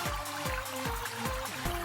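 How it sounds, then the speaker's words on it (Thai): Water running through a condo-style black crab farming tank system, set up for swirling water levels, with a close, rhythmic gurgle that pulses roughly twice a second over a steady trickle. "มันจะทำให้น้ำไหลผ่านไปข้างหลังนะครับ"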